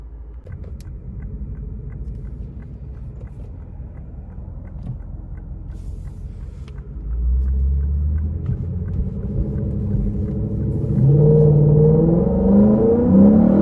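A 2016 Lexus RC F sports car drives on the road with a low engine rumble that swells as the car accelerates and climbs to a louder, rising rev near the end. Nobody speaks.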